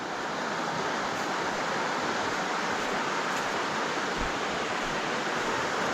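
A river flowing near hot pools in a natural setting, a broad steady rushing wash of water, constant and fairly loud, without voices.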